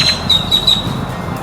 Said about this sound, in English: The red-winged blackbird making various calls.